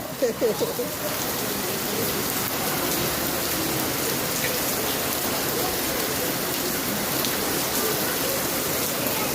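The season's first rain pours down in Mumbai, a dense, steady hiss of drops hitting surfaces. Faint voices are heard briefly at the start.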